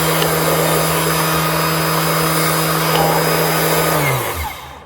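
A repaired Bosch GHO18V-LI 18V cordless planer runs at a steady, loud, high whine with a constant motor hum, then spins down and stops near the end.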